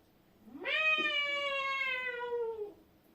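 A performer imitates a cat's meow on stage during a theatre storytelling show, one drawn-out, rising then slowly falling mew lasting about two seconds, close and clear with no other voices.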